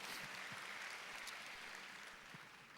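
A church congregation applauds during an evening prayer service, a fairly distant, dense round of clapping that holds steady and fades slightly toward the end, quiet overall.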